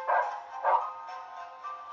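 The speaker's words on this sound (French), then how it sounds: "Putain de chien." A dog gives a few short whimpering yips and barks, two louder bursts followed by fainter whines, fairly close and otherwise alone in a quiet setting.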